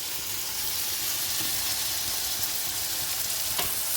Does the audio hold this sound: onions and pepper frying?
yes